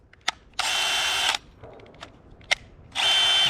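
Short bursts of a high-pitched power drill whirring as it drills through car windshield glass, starting and stopping twice, with small clicks and taps in between.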